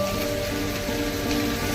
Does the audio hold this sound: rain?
yes